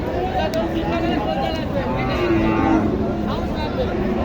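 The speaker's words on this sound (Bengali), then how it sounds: "এখানে এই হাটটিতে অ্যাভেলেবল এই ধরনের সার গরুগুলি আপনারা পাবেন।" A Sahiwal bull calf lows amid a busy cattle market in Joypurhat, its drawn-out moo rising over a dense crowd hubbub and livestock noise throughout.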